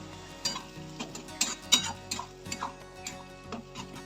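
Tomato and red chilli powder masala being stirred in a pan, with soft scraping strokes and light clicks at an irregular rhythm over a quiet background sizzle.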